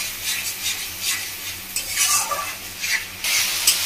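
Onion and tomato paste fry in hot oil in a pan for a boal fish curry, loud sizzling hiss broken by repeated scraping stirs of a spatula.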